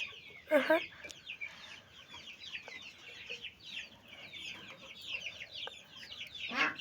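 Chickens clucking in a garden, with a few louder squawks near the start and end over a steady low murmur of background noise and faint talk.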